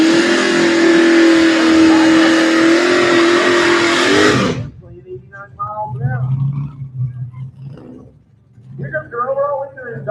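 Drag racing vehicles, including a truck, accelerate loudly down the track with a sustained roaring engine drone that cuts off abruptly, then an excited announcer talks over the crowd.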